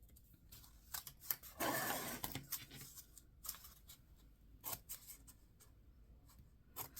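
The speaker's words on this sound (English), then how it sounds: "these scissors are called Easy Cut scissors" Easy Cut spring scissors snip through paper in a book-folding project, giving a series of quiet, close, crisp cuts with one longer slicing stroke among the short snips.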